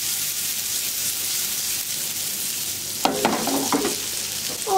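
Meatballs fry in a pan over high heat, a bright, even sizzle that swells into a few rattling, hissing bursts as the pan is shaken, then settles back, with no talk.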